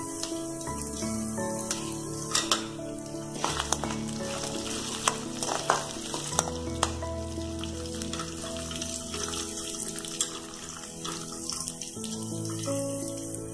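Dried red chilies frying in hot oil for curry leaves thuvaiyal, a continuous close sizzle with scattered crackles and spatula scrapes running steadily throughout.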